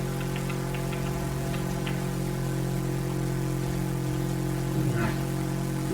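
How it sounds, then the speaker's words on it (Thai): A deep, rumbling Harley-Davidson Iron 883 V-twin motorcycle engine in the game The Crew 2 idles steadily throughout, loud and close, with a low pulsing throb and no voices over it. "เสียงของตูวิทวินเนี่ยมว่ามันแบบสุดมาก"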